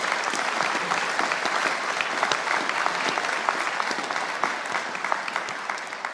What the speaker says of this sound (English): So I'll give you another applause as well.